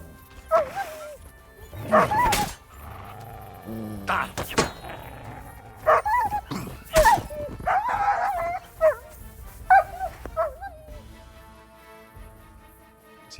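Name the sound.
dogs barking in video game Kingdom Come Deliverance 2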